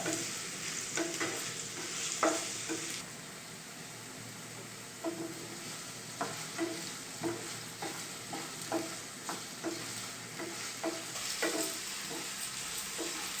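Nalleru stalks fry in oil in a pan, giving a steady close sizzle broken by repeated scraping and tapping from a spatula stirring the pan, with no voices.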